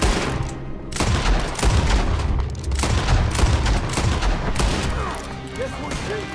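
Dense, sustained gunfire from Red Dead Redemption 2, a rapid stream of overlapping shots and booming reports that continues without pause, loud and close throughout.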